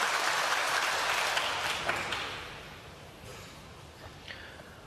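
Snooker crowd applauding a shot at the 2017 China Championship: a steady burst of clapping that starts full and slowly tapers off over several seconds, with a few scattered late claps.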